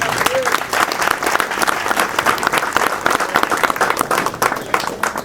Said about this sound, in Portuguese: Vamos receber o servo aplaudindo Jesus?